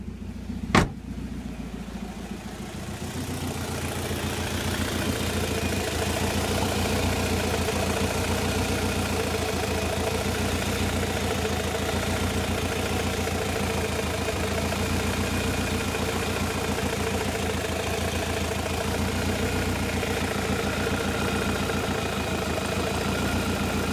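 A Land Rover Freelander with a failing head gasket idles steadily, a close, even engine hum with a constant low drone running unbroken after a brief knock at the start.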